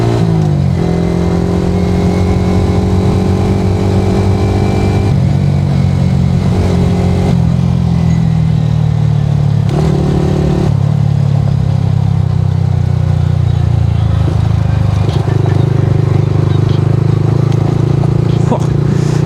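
A motorcycle being ridden gives a loud, steady engine drone close to the listener, its pitch shifting as the throttle changes, and a rider's voice comes through over it.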